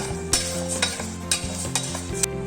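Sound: jaggery syrup boiling while stirred in a pan

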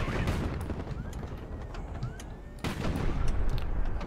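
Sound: missile and bomb explosions in Highfleet video game

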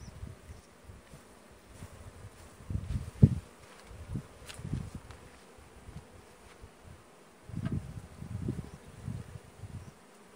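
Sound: honey bees buzzing around hives during honey extraction

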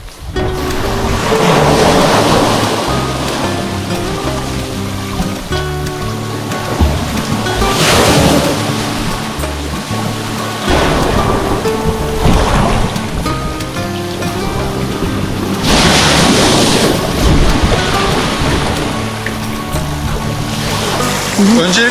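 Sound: sea waves on the shore

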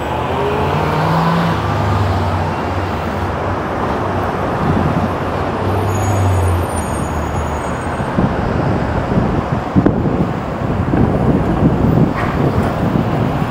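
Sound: cars exiting the 110 freeway in city traffic

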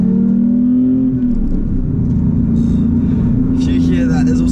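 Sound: Porsche 911R engine revving while driving

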